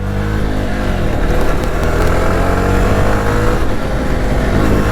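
Engine of a 2025 Jawa Bobber motorcycle on a first ride, a loud continuous rumble with steady harmonic drone and slight revving, heard close and constant with wind throughout.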